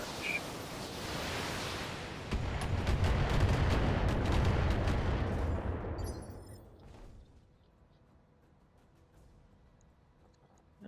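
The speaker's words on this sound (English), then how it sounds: "And continue the LRM barrage." Rumbling barrage of long-range missiles in the BattleTech game, a loud, dense roll of explosions that swells over several seconds and then fades into a quieter rumbling tail.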